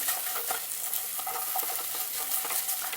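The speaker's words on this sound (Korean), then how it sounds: "페이스트는 한 큰술 정도를 넣어서 볶아줍니다" Vegetables sizzle with a spoonful of tomato paste in a pan over low heat, a steady close crackle with the scrape of stirring, and no voices.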